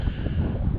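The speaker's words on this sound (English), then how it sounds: "Cold and windy as hell." Cold early-morning wind gusts across the microphone at Ramshaw Rocks, a steady, close, low rumbling buffet with no one talking.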